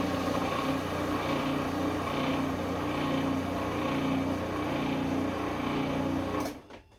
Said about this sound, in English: And we're going to process this, not until it's like a smooth paste, but until it's like a chunky, gritty, kind of deconstructed pesto